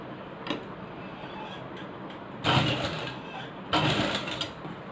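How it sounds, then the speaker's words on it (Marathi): A sewing machine stitches blouse fabric in two short, loud bursts of rapid mechanical whirring and ticking, separated by a brief pause over low background noise. "सरळ बाजूवरती मी शिलाई मारणार आहे"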